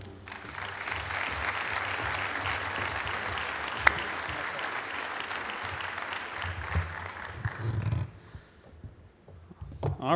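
A conference audience at the Hawaiʻi Tourism Conference applauds to welcome a speaker, with sustained, dense clapping for about eight seconds that then fades to scattered claps and quiet.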